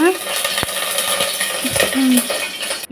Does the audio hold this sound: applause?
no